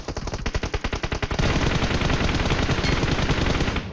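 Rapid automatic gunfire in a battle royale video game, a loud steady burst of closely spaced shots that merges into one continuous volley after the first second and runs almost to the end, with no talk over it.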